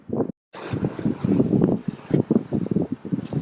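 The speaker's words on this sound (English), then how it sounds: "The wind keep blowing in my eyes." Wind buffets a microphone outdoors in the small town of Cajicá near Bogotá, Colombia, loud low rumbling gusts that come and go in uneven bursts after a brief dropout.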